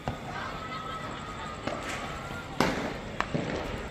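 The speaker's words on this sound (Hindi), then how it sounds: "देखें हर तरफ से पटाखों की ही आवाज़ें आ रही हैं, चारों तरफ से पटाखों की आवाज़ें।" Firecrackers going off all around during a street celebration, several sharp scattered bangs and pops breaking over a steady hiss of background noise.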